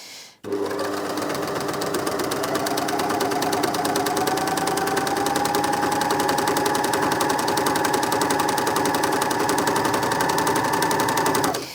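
Janome MyLock 454D overlocker stitching a seam with the cutting blade off, a loud close rapid mechanical whir running steadily at moderate speed from start to finish.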